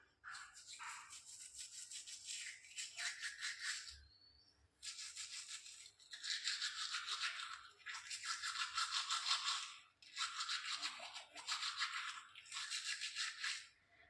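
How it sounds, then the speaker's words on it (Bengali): Close, vigorous toothbrushing with Colgate toothpaste, in long bursts of wet rhythmic scrubbing separated by short pauses, loud and alone with no speech. "তো চলো আগে আমি ব্রাশ করে নিই।"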